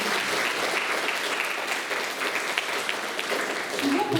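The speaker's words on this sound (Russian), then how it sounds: "Давайте здесь аплодисменты." Sustained applause from an audience at a 9th-grade school graduation ceremony where certificates are handed out, a steady dense patter of many hands clapping at moderate loudness throughout.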